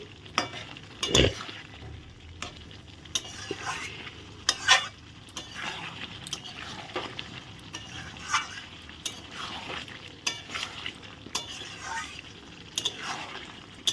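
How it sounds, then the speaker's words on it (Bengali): Fried potatoes are stirred into a chicken curry in a pan, bringing repeated scraping and clattering stirs over a gentle background sizzle, close and intermittent with short sharp knocks. "ভেজে রাখা আলুগুলো দিয়ে দিচ্ছি আলুগুলো দিয়ে ভালো করে নিয়ে নেড়ে নেব"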